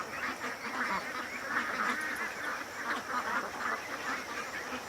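A free-range flock of ducks quacking together in a steady, overlapping chorus, fairly close and continuous with no clear gaps.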